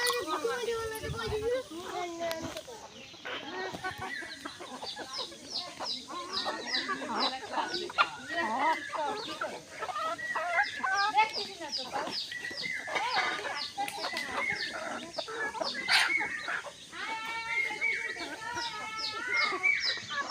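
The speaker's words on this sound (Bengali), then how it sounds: "এই মুরগিটা অনেক বড় ডিম পারে তোমাদেরকে ডিমগুলো দেখাবো" Hens clucking on a poultry farm, including a large-egg-laying hen, with pigeons nearby: continuous busy clucking and cackling from many birds close by, with a voice talking at points.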